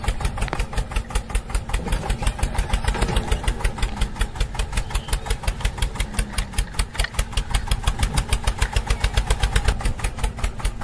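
A mini tractor engine runs steadily nearby, a rapid, even chugging pulse with a knocking mid-range rumble that continues without pause throughout.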